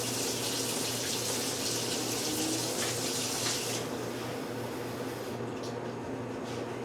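Running tap water pours steadily into a container for a sourdough starter, a continuous close hiss that softens near the end, with no talking.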